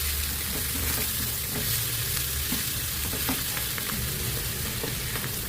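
Mushrooms added to sautéed onions sizzle loudly and continuously in a pan, with intermittent stirring clicks and scrapes throughout.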